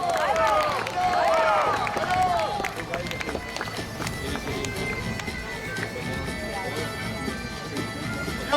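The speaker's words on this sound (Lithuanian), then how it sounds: "Nepagailėkit aplodismentų ir šūksnių" A crowd applauds and cheers for a tournament champion at a knights' combat event, with loud whoops and shouts at first, then sustained clapping and babble that settle to a steady, fairly close ovation.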